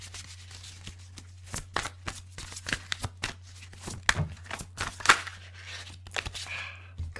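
Tarot cards being shuffled by hand, a close sequence of crisp riffling flutters and taps repeating every fraction of a second, fairly quiet, with no voice heard.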